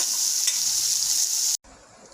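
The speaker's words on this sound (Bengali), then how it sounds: "তাহলে তেলের মধ্যে পেঁয়াজ আর উচ্ছে তুলে দিলাম হলুদ দিলাম নুন দিলাম" Sliced onion and bitter gourd, with turmeric and salt, fry in hot oil with a steady bright sizzle that cuts off abruptly near the end.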